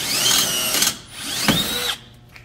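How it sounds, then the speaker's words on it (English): Power drill spinning up while drilling holes for a Can-Am X3 two-seat door install, two close whining bursts that rise and fall in pitch, then stop. "make sure the drill bit's tight in the chuck"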